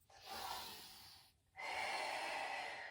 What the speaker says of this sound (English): I feel like I'm really heavy breathing down the microphone to you